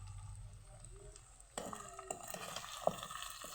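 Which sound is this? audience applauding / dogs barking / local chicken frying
local chicken frying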